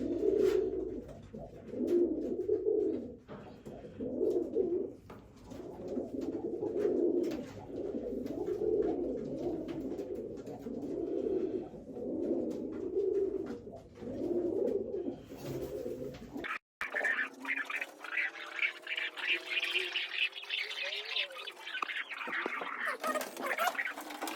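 Pigeons coo in the USA in repeated, rhythmic low warbling phrases for a while, then a brighter, higher bird call takes over near the end.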